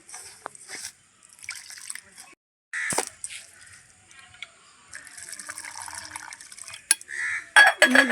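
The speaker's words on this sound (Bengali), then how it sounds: "দেড় বাটির মতন আমি দুধ দিয়ে দিলাম ভালো করে চিনির সাথে গুলিয়ে নেব" Warm milk is poured into sugar for an eggless semolina cake, making short liquid splashes and trickles with light clinks of a bowl, broken into bursts, while someone talks over it.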